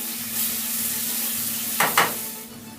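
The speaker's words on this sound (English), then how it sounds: "And as our shrimp are cooking" Shrimp sizzle steadily in a hot pan, close and moderately loud, with two sharp scraping clinks of a utensil near the end.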